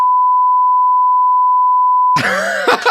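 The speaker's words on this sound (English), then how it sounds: "I'll beep it out" A loud, steady censor beep tone holds for about two seconds, then cuts to a short burst of voices and a throat sound in a casual podcast conversation.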